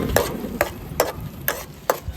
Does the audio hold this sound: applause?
no